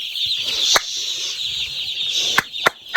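Chickens cluck and flap their wings close by, a steady high-pitched fowl chatter broken by several sharp flaps or knocks, with no talking.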